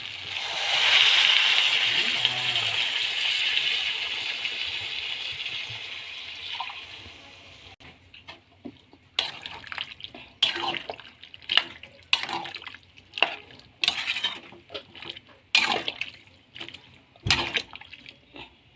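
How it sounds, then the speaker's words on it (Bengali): Water pours steadily into a pot of jackfruit and mutton curry with fat for several seconds, then gives way to intermittent clinks and stirring knocks against the pot. "এবার জল দিয়ে দেবো জল দিয়ে দিচ্ছি"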